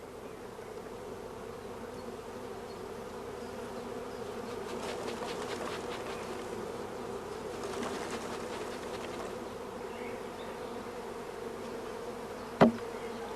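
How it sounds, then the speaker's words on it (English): A swarm of young, queenless and broodless honey bees drones continuously inside a shook-swarm box, a dense steady buzz with a brief sharp knock near the end. "This creates a queenless and broodless shook swarm."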